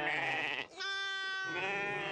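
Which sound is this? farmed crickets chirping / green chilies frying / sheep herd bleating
sheep herd bleating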